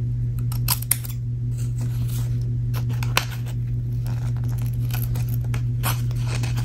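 Scissors trimming a picture cut from a magazine, giving close, soft snips and crisp paper rustles spaced irregularly over a steady low electrical hum, with no talking.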